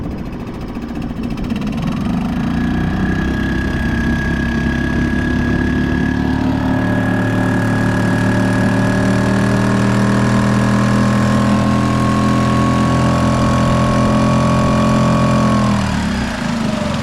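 A Suzuki 2.5 outboard motor drives an Old Town 106 kayak, its small engine droning loud and steady throughout after a brief rev-up, with a faint rising whine, alone without voices.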